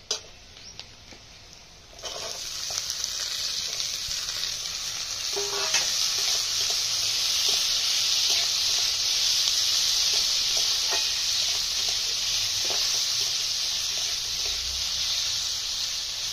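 Potatoes and carrots hit a hot pan and set off a loud, steady sizzle that swells after a brief quiet start and carries on evenly, with occasional stirring scrapes and clicks close by.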